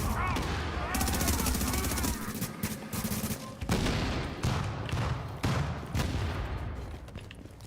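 Enemy explosions and gunfire in The Division video game: rapid bursts of automatic fire and sharp blasts in uneven clusters, loud and close, with a voice speaking at times.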